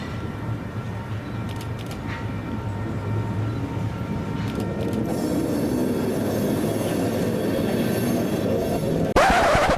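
A Wichita Terminal Association freight train pulls out of the Cargill rail spur, a continuous loud rumble of wheels and cars that grows steadily, with faint squeal tones and a sharp burst near the end.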